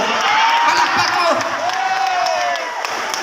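Large crowd at a political rally in Davao City cheering and applauding, a dense steady roar of many voices with whoops, clapping and high shouts rising over it for the whole stretch.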